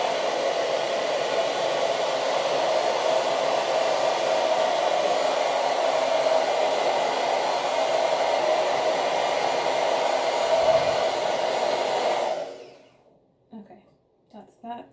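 A hair dryer blows steadily on hair for a final drying pass, a loud continuous whooshing hum that cuts off after about twelve seconds, followed by faint handling sounds.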